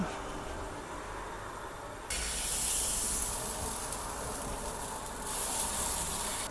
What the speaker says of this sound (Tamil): அடுத்த ஒரு சப்பாத்தியும் நான் ஊற்றி காட்டுறேன்.